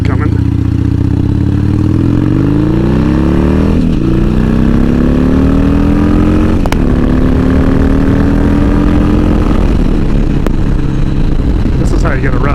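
Harley Davidson Sportster 1200, a bike that sat unrun for six years, rides along with a steady loud engine drone that rises in pitch through the gears, with a gear change or two partway through; talk runs over the engine.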